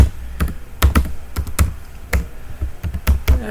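A password is typed on a computer keyboard in quick, irregular bursts of close, crisp key clicks with a few heavier thunks.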